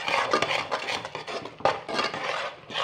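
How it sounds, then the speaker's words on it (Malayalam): A spoon scrapes and rubs through flour being stirred into boiling water in a pot, with an irregular series of close, raspy strokes and knocks against the metal. "നമുക്കിത് ഇളക്കി കൊടുക്കാം കേട്ടോ."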